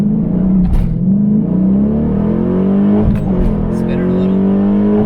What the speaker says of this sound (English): So we'll give it one more really hard launch here.